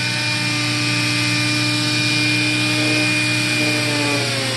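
Close, continuous rubbing and scuffing from hand-buffing a surface wet with brake cleaner in small, quick, choppy strokes, steady and loud for the whole stretch with no voices.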